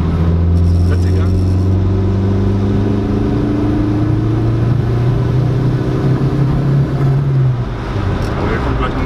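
A tuned VW Lupo 1.8T with a GT30 turbo, making 335 PS, pulls hard in third gear. Its engine gives a loud, continuous, rising drone that stays close and dominant throughout.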